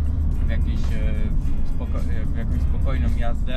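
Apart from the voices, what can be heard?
Mazda MX-5 2.0 SkyActiv-G four-cylinder engine sound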